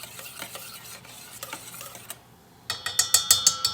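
Butter stirred into beer in a bowl, soft wet scraping strokes that turn into sharper rhythmic clinks of a utensil against the bowl toward the end, close and alone.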